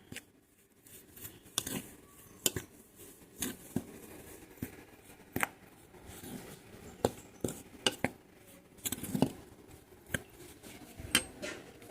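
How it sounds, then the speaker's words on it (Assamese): Spices tapped and stirred together in a bowl for bread pakora batter, heard as scattered light clinks and scrapes of a spoon against the bowl, fairly quiet, with no talking. "এতিয়া এইখিনি আমি ধুনীয়াকৈ মিক্স কৰি ল'ম।"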